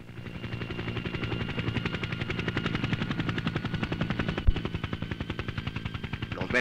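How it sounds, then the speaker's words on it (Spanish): A helicopter's rotor thumps in a fast, steady rhythm with a continuous engine whine, loud and sustained throughout, in 1972 footage from an oil project at Balao. "Los versátiles helicópteros han sido fundamentales en esta trascendental obra que hoy culmina en Balao"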